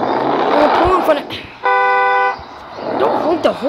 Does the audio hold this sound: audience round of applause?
no